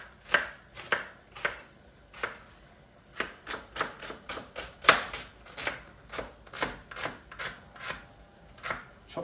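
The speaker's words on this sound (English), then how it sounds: "chop that all up so you can see nice small pieces." A knife chopping vegetables into small pieces for a vegan trofie alla primavera, with a steady run of sharp, close taps on a cutting board that come in uneven bursts, alone with no talk.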